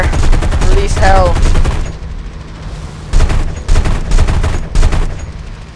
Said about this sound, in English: there's our cannon. Fire. Release hell.